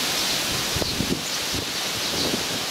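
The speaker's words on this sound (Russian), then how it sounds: "сильный ветер" Strong wind buffets the microphone in a dense, rushing roar with occasional low thumps, steady throughout and no voices.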